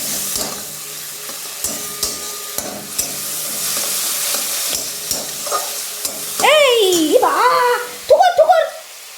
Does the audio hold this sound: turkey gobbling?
no